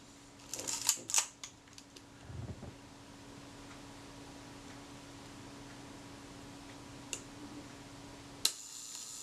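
A Retina IIIc camera being worked by hand: a cluster of sharp mechanical clicks and small winding sounds from the shutter release and film advance, then two isolated crisp clicks later, all close over a low steady hum.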